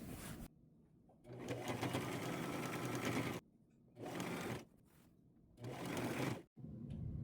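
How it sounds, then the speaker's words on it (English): Sewing machine running a straight stitch along the edge of a fabric ruffle, whirring steadily in three long bursts with short pauses between, close and loud, with no one speaking. "And I will do that all the way down, and I will use a straight stitch."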